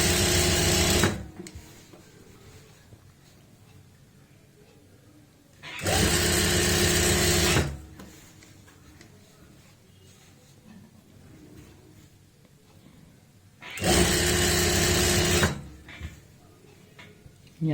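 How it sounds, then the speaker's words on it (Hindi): A sewing machine stitches trouser seams with a half-inch margin in three loud, steady bursts of roughly two seconds each, separated by quiet pauses while the fabric is matched and repositioned. "तो यहाँ पे हम मैच करते हुए सिलाई लगाएंगे ऐसे।"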